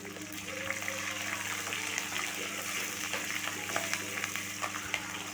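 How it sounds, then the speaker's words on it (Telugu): Dried red chillies and green chillies fry in oil in a pan, giving a steady close sizzle and crackle with faint stirring scrapes throughout, no talking. "కొంచెం ఫ్రై అయిన తర్వాత పచ్చిమిర్చి వేసుకోవాలి వేసుకొని ఫ్రై చేసుకోవాలి"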